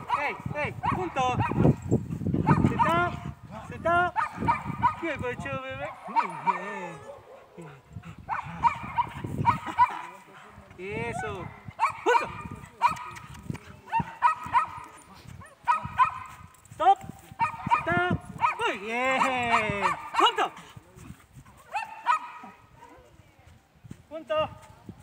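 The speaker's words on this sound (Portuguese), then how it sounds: "a primeira aula do Aragorn, para vocês verem como é que a gente evolui um cão" Puppy barking during a first obedience training lesson, sharp yaps scattered through the clip under near-constant talk from a trainer.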